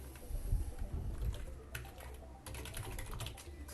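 Quick typing on a computer keyboard, soft close key taps in short bursts over a low room rumble, no one speaking.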